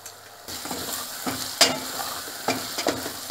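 A stuffing mixture with lemon salt is stirred in a pan for dolma, producing a soft sizzle broken by several sharp spoon-against-pan scrapes and clinks at irregular intervals.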